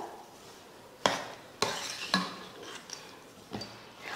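A sweet snack mixture stirred in a pot, a few sharp spoon scrapes and knocks at irregular intervals over a faint background hiss, close and fairly quiet.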